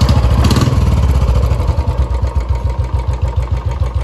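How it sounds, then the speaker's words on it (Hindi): A Royal Enfield Bullet motorcycle engine just started and settling into idle, a loud close thumping beat with an even, steady rhythm and a brief rev near the start. "डैडी ने इनफील्ड स्टार्ट कर ली"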